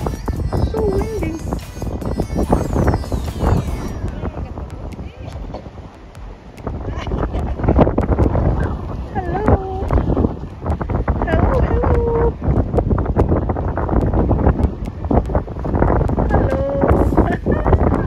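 Strong wind buffets the microphone on a beach during an Easter holiday, gusty rumbling noise running throughout, with people talking and calling out over it.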